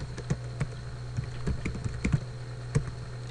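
Fingers tap out a short command on a computer keyboard, a quiet sequence of separate clicks in an uneven rhythm, close by and alone.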